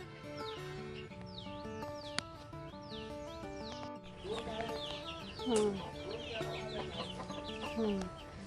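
Several chickens cluck and call repeatedly at close range at a house in a mango orchard, with other birds chirping in the background and an occasional sharp click.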